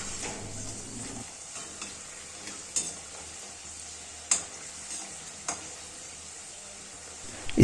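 Homemade special french fries frying in oil, a steady soft sizzle close by with a few sharp clicks of a utensil against the pan, no talk.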